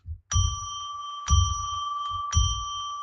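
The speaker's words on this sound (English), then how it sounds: "ringing a bell 3 times to declare a sacred space" A bell is struck three times at even intervals to open a psychic reading session, each clear ring sustaining and fading before the next, with no talk over it.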